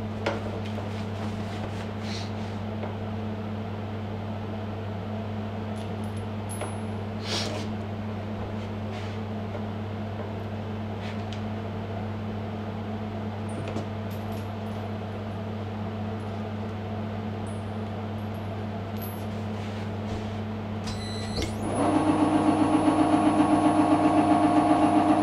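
A drill with an 8mm bit boring out a seized pin and plug in a traction motor coupling, a steady close motor drone running at an even pitch and rising louder and harsher near the end.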